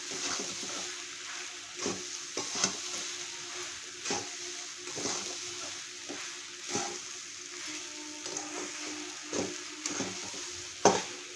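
Food stir-fried in a pan gives a low, steady sizzle punctuated by repeated scrapes and knocks of a spoon against the pan, with a sharper clack near the end and no voices.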